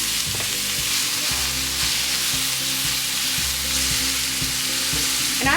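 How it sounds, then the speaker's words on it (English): Shaved steak frying in avocado oil in a pan makes a loud, steady sizzle up close, broken by periodic clinks and scrapes of a utensil stirring the meat, with no speech. "Now I'm adding in my shaved steak."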